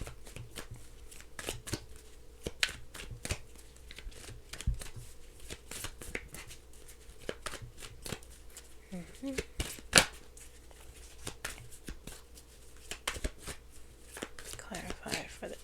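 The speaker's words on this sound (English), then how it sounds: "I have to shuffle again. It's the same cards." A deck of tarot cards being shuffled at close range, quiet repeated riffles and soft slaps of cards continuing steadily, with occasional low talking mixed in.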